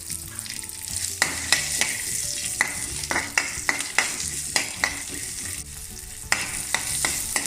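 Dried chillies and half an onion fry in hot oil for a Mangalore-style mackerel curry, a steady close sizzle broken by repeated clinks and scrapes of a spoon stirring the pan.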